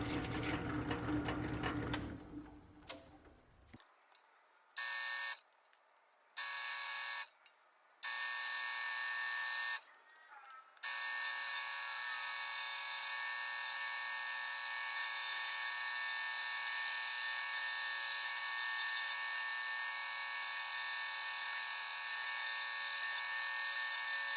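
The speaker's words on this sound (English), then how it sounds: "Notice that I'm drilling through the plastic lid and into the wooden frame." A drill press motor whines in several short starts and stops, then runs continuously at a steady high pitch while drilling through a plastic lid into a wooden frame.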